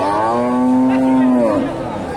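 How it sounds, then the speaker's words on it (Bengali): A Friesian dairy cow at a Bogura cattle market gives one loud, drawn-out moo, close by, over a low crowd murmur. "বাচ্চা ছাড়া দুধের গাভীগুলো উঠে থাকে"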